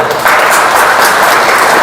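Audience applause fills the room, a dense, steady wash of many hands clapping loudly and continuously from near to far with no voices over it.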